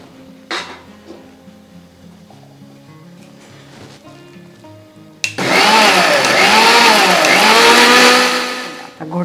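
A mixer grinder starts up loudly after a few seconds of quiet clatter and runs with a steady, whining roar, its pitch wavering as it grinds coconut, coriander seeds and water into spice paste.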